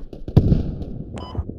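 A rocket blast in the military shooter game Squad Ops, a sharp close boom with crackling debris followed by a second, fainter burst, over a short scrap of battlefield noise.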